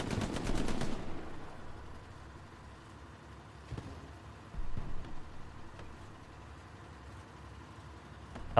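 Machine gun fire in Hell Let Loose: a loud, rapid burst opens, followed by quieter distant shots and rumbling battle noise, with another short flurry midway.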